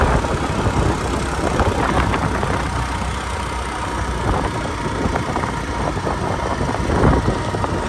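A motorbike engine runs steadily throughout, a continuous close mechanical drone with light road noise while riding toward a temple in Gaighat, Udayapur.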